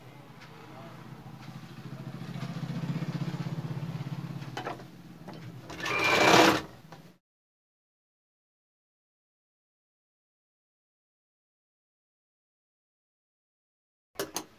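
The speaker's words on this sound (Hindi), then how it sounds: "जो पहले सिलाई मार दिया उसी के ऊपर बाहर की ओर सिलाई मारते हुए इसको हम अंदर अटैच कर लेंगे।" An electric sewing machine stitches a kurta seam with a close, steady whirring run for several seconds, then winds down with a brief higher buzz. Silence follows, then two faint clicks near the end.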